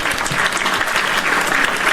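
A hand claps sound effect: a loud, dense burst of many overlapping claps like a crowd applauding, holding steady and close throughout.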